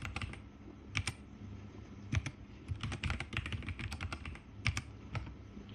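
Keys clatter on a computer keyboard as a password is entered, giving irregular bursts of close, crisp clicks with short pauses between them.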